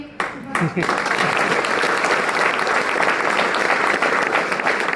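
A crowd in a hall breaks into loud, sustained clapping at a motivational talk, dense and close, swelling after a brief opening of stray claps and a voice, then holding steady for several seconds.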